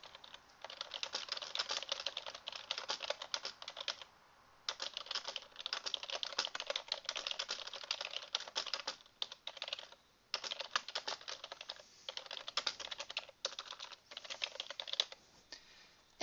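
Fast typing on a computer keyboard while adding text to a Microsoft SharePoint Online page; dense, close, continuous key clatter in bursts with short pauses, no talking.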